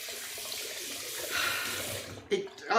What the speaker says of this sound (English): let me give it a rinse